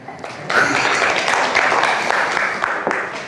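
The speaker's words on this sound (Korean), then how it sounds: "박수 안 쳐요?" Applause in a Korean tax-law lecture hall, a short burst of crowd clapping that swells after a brief pause and holds fairly loud, tapering near the end.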